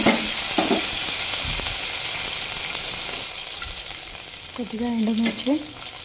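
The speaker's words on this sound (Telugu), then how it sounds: "కొద్దిగా కరివేపాకు వేసి కొద్దిగా ఫ్రై చేసుకోవాలి" Curry leaves and dried red chillies frying in hot oil, a dense continuous sizzle up close that softens partway, with brief stirring and a few faint voiced sounds near the end.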